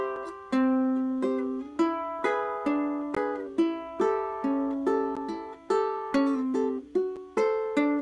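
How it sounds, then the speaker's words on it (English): Plucked strings in an alternating index-finger pinch pattern, a steady stream of bright, ringing picked notes and two-note pinches forming a melodic figure over about eight seconds, close and unaccompanied. "the index finger on the second string and the third string. So it'll sound like this. Index pinch,"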